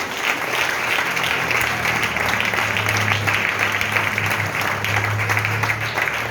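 Sustained applause from a church congregation, a dense, even wash of clapping that continues without pause.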